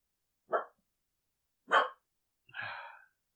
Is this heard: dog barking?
yes